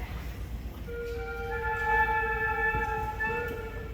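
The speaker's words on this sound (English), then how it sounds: "Then we have our flutes who create sound by blowing air across the blowhole on" A school band's flute section at an intermediate school concert sustains a few held notes, entering one by one over a faint room rumble.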